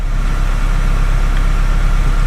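A 2002 Honda CR-V engine idles steadily with a low, even rumble throughout, close by and alone, while the automatic transmission is moved through its gears.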